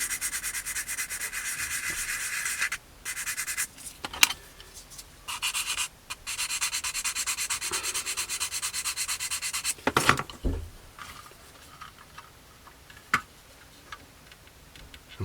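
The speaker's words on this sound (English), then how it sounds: "we'll just sand the edges of these slightly" Edges of small plastic parts from a Tamiya 1/48 Beaufighter model kit sanded by hand, with close, steady rasping strokes broken by short pauses and a few sharp taps.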